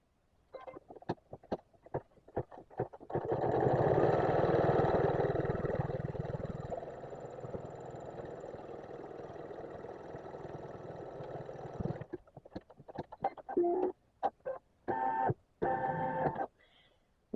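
A home embroidery machine stitches down the outer edges of an in-the-hoop fabric mug rug, giving a steady mechanical whir for several seconds, bracketed by short bursts of stitching and clicks at the start and end.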